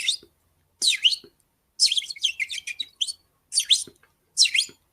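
Several bursts of bird chirping, bright and clear, repeating in short phrases with brief silences between, with no talk.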